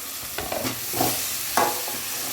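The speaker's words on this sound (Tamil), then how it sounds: "இப்போ தக்காளி நல்லா வதங்கட்டும்." Tomatoes sauté in a pan with onions, sizzling steadily up close while a spoon stirs them in a few scraping strokes.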